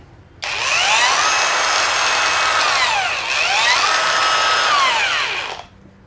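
A Mollar CAG20300 cordless 20V angle grinder runs free with a loud, steady high whine that dips and recovers once midway, starting abruptly and winding down at the end.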